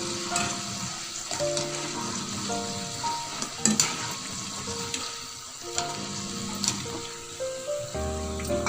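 Potato pieces fry in hot oil until golden brown for a pickle, giving a steady crackling sizzle with a few spoon clatters, while tonal background music plays along.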